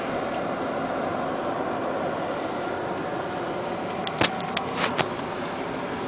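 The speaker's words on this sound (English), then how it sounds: "Just driving to work." Steady broadband road and engine noise fills the cabin of a car driving to work, a constant wash with a few brief clicks and taps near the end.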